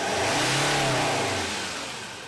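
A 2017 Ford Everest with a burst intercooler pipe revs up loudly and close, its engine note rising and then easing off over a couple of seconds, alone with no talk.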